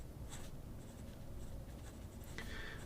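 A Jinhao 100 fountain pen with a Bach nib, loaded with burgundy Diplomat ink, scratches quietly across paper in short, uneven strokes, faint and close with no voices.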